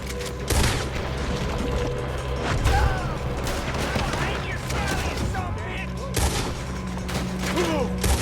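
Sustained gunfire from a Red Dead Redemption 2 shootout: dense, overlapping volleys of shots and booms that continue without a break, mixed with game noise and occasional voices.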